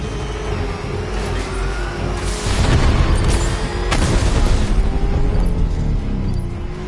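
Heavy gunfire and booming explosions in the Batman Arkham Knight video game, a dense rumbling barrage with a couple of louder blasts mid-way over a steady engine-like drone.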